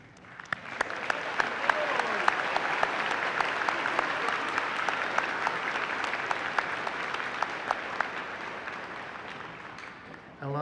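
A graduation ceremony audience applauds parents, spouses, children and friends, sustained close clapping from a large crowd with scattered sharper claps, continuing steadily before fading at the end.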